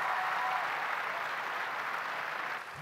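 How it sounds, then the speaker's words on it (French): An audience applauds a young artist at a music-industry conversation event, a steady even wash of clapping that fades a little at the very end. "Let's give him a round of applause."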